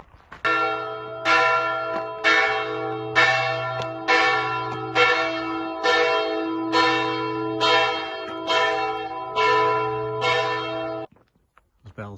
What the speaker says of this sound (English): Those bells started chiming just as I was going through that lovely little village.